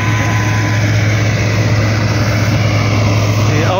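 A Massey Ferguson MF 385 tractor runs a straw chopper, its engine a loud, close, unbroken drone with a steady hum that holds constant throughout, with no talking.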